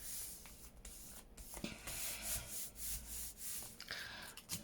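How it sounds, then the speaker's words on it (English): Light rubbing of a paper flap stuck down in an altered book for a botanical junk journal page, soft irregular scuffing strokes close up and quiet, with no talk. "I'm just going to rub just a quick bit down there just to help with that flap"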